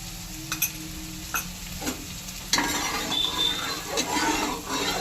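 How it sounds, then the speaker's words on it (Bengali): A spoon stirs salt into hot water in a cooking pot, with scraping clinks and a soft sizzling hiss that grows louder and busier partway through, close by and with no voices. "জলের সাথে লবণটা ভালো করে মিশিয়ে নেব।"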